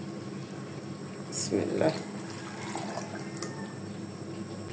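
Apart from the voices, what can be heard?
blended rice being added into milk in a pot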